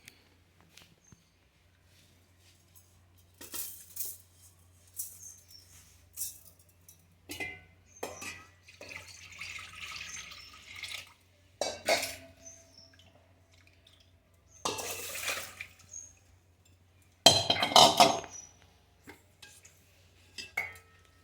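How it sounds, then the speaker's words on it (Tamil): Kitchen sounds from cooking rasam, with water poured into a pot amid clinking pots, pans and utensils. The clattery bursts are scattered and moderately loud, separated by quiet gaps, and no one speaks. "இப்போ நான் 2வது தண்ணியை விடுறேன்."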